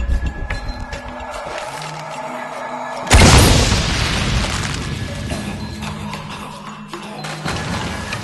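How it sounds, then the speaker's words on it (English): An explosion in Shadow of the Tomb Raider: a sudden heavy boom that rumbles and fades slowly over several seconds, over a steady mechanical game background. "have to create an explosion"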